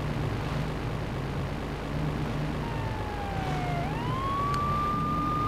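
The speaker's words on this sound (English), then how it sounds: "I don't like those siren sounds." Police sirens in Grand Theft Auto 3 wail over a low engine drone, one rising and falling tone sweeping through midway before leveling into a long steady whine, fairly close and loud with no talking.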